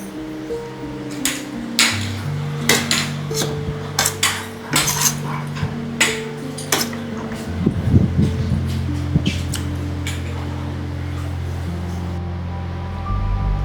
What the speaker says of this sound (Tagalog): Ako na lang kukuha ng pinggan ko.